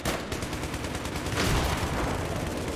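Battlefield 3 gunfire on Xbox Series S comes as a rapid, dense burst of automatic shots, loud and continuous, swelling briefly midway with no talk.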